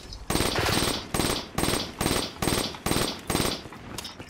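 Rapid bursts of automatic gunfire in a video game, about eight loud sustained volleys separated by short pauses, with no talking over them.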